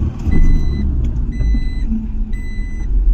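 A Force Gurkha 4x4 pulls along in second gear with a loud, steady engine drone and road rumble, accompanied by repeated high beeping tones.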